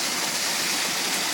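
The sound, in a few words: water flowing into underground stormwater outfall structure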